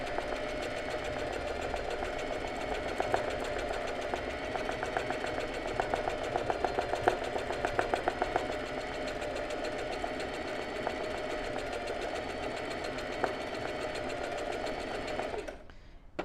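A sewing machine stitching straight-stitch embroidery runs at a steady, even whir with a fast regular needle rhythm, close and continuous for about fifteen seconds before stopping abruptly.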